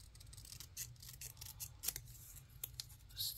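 Scissors snipping through paper during a craft project, a quiet series of irregular crisp cuts and rustles close by, with no voices.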